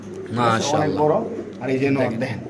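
Spanish pigeons coo in low, throaty, repeated calls close by, with someone talking over them throughout.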